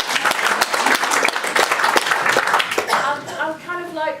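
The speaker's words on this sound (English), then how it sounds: "I think we could just have a little round of applause there." Audience applause during a Q&A session after a film screening, a short burst of clapping from a small crowd that fades as a voice starts talking over the end.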